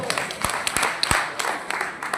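An audience at a health talk gives a short burst of applause, a dense patter of many hands clapping at moderate loudness with a voice faintly heard underneath.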